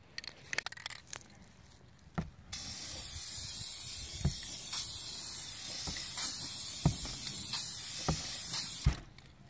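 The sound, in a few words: spray paint can spraying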